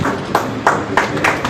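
A handful of separate claps at a school or community honoring ceremony in Chhindwara, sounding in a loose rhythm about every third of a second, fairly close and not part of a full crowd.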